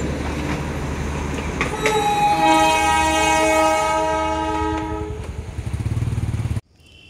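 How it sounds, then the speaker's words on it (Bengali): A Darjeeling toy train passes close by, its loud horn sounding in a long sustained blast over rumbling wheels and clatter before the sound cuts off abruptly. "তারপর ফেরার পথে টয় ট্রেন পেলাম আমরা"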